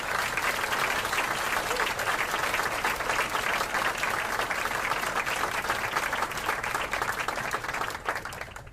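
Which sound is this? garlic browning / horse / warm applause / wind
warm applause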